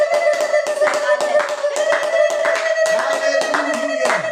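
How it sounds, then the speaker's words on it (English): A church congregation clapping hands in praise during a gospel worship service, steady rhythmic applause in even beats with a sustained organ or keyboard tone held underneath, loud and close. "Let's give the Lord a great big hand clap offering of praise."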